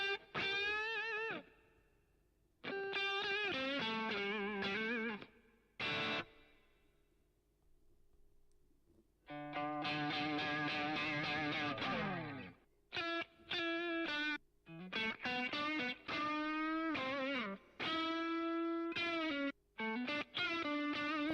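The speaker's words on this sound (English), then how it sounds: "got a distortion plus" Electric guitar played through a Distortion Plus pedal in the BYOD iOS app, heard as loud, sustained distorted chords and notes in bursts separated by short gaps, with a thick harmonic buzz.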